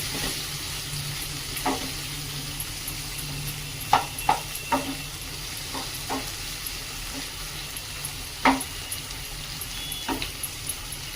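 Cabbage with whole moong sautés in a pan with a low continuous sizzle, punctuated by irregular scraping clinks of a spatula turning the vegetables, close and moderately loud with no talk.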